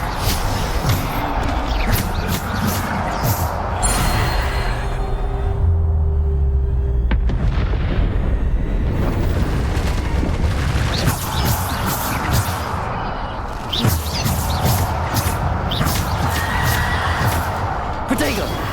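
Bombarda spell blasts in Hogwarts Legacy, repeated bursts and booms scattered through a busy magical combat scene, with voices heard throughout.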